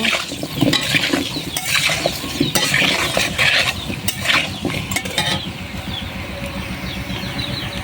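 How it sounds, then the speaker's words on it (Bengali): Potatoes fry with salt and turmeric in a pan for a poultry curry, a loud close sizzle broken by scraping stirs and clinks of a utensil, fading to a softer steady fry toward the end, with no talk. "আলুটা লাল লাল করে ভেজে নেওয়া পর্যন্ত অপেক্ষা করব"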